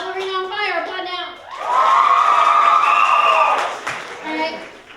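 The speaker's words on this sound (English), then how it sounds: "Ballerina on fire, applaud now." A comedy sports match audience erupts in loud cheering, whooping and clapping for a ballerina on fire, a sustained roar of several seconds with a speaking voice before and after it.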